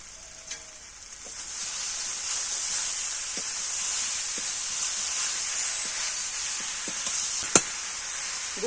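Sugarcane jaggery melts in a pan for olive pickle, giving a steady bright hiss and sizzle with a few faint ticks and one sharp clink, close and continuous without talk.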